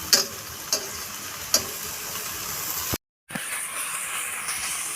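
Adobong kangkong, water spinach with dried fish, cooking in a pan, a faint steady sizzle with a few sharp utensil clicks, broken by a brief dropout, with no talk.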